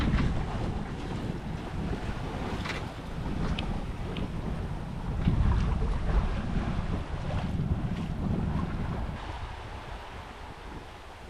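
Sailboat running under spinnaker and mainsail with the engine off in about 11 knots of true wind off southern Corsica, a steady rush of wind, water swishing along the hull and occasional creaks, with no voices.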